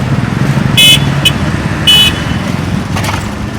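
Cars drive past on a road near a bus wreck at a train crash site, a loud steady traffic rumble with several short horn toots.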